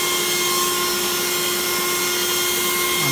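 A Makita electric leaf blower runs steadily at high power, a loud continuous whooshing hum with a fixed tonal whine, unbroken and close for the whole stretch with no voices.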